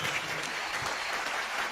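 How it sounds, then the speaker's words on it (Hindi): A studio audience on a comedy show bursts into loud, continuous applause, dense clapping filling the whole moment with no pause. "एक बार मुन्नी के लिए जोरदार तालियां।"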